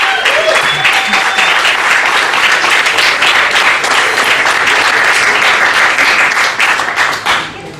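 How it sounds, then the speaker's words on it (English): A crowd at a comedy roast in a Richmond, Virginia club gives a loud, sustained round of applause with dense clapping that carries through almost the whole stretch before tapering at the end. "That was a loud and long round of applause for you, Corey Marshall."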